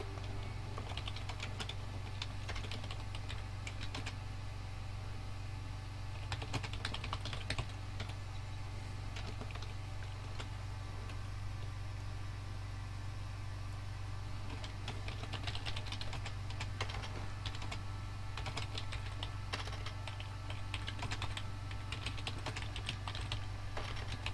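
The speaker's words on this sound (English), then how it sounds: "it's a noisy keyboard" Steady, busy typing on a noisy computer keyboard, close and continuous for the whole stretch, with clusters of rapid clacking keystrokes over a constant low hum.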